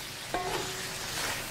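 Squid, vegetables and onion stir-fried over the highest heat, giving a steady, close crackling sizzle with light scraping stirs and a short louder hiss near the end.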